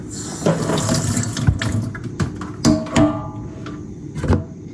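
Water pours from a tap into a bowl of flaxseed being prepared as an edible hair treatment, a steady running splash broken by several sharp knocks and clatters nearby.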